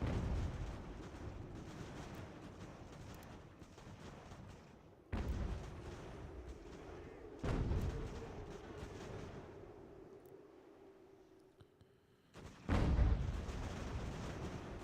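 Artillery batteries boom in a Revolutionary War battle game, with several heavy, distant-sounding cannon blasts spaced a few seconds apart over a low, continuous battlefield rumble.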